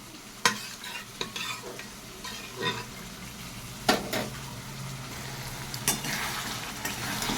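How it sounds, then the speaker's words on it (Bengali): Spice masala sautéed in a pan, with repeated scraping stirs over a steady sizzle and clinks of the utensil against the pan; no one speaks. "মশলাটাকে খুব ভালো করে কষিয়ে নিচ্ছি।"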